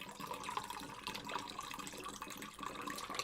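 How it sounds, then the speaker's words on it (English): Water pouring steadily in a Stanley Parable Ultra Deluxe game scene, a continuous bright splashing stream that runs unbroken at moderate loudness without any talk. "Lovely pouring water."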